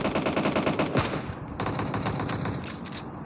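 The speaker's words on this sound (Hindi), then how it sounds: "अच्छी खासी फायरिंग" Dense automatic gunfire in the battle royale game PUBG Mobile, rapid continuous bursts that shift to a slightly different weapon partway, loud and close throughout.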